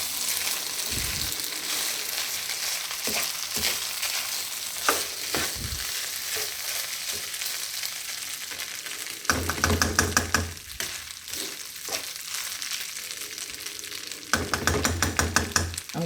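Turmeric coconut rice sizzles steadily in a hot pan, with bursts of scraping and rattling as the grains are tossed and stirred, close and fairly loud with no talk.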